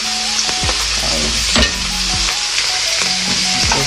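Beef, broccoli and mushroom stir-fry in a pan, with a loud steady sizzle and repeated scraping strokes of a spatula close by.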